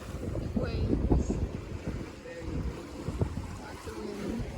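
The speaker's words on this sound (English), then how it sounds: "Waves." Ocean waves wash and slosh around a sailboat at sea in the South Pacific, under gusting wind buffeting the microphone, with faint creaks from the boat.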